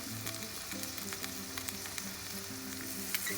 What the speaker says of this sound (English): Add half chopped red onion and stirring well you can cook for 2 to 3 minutes.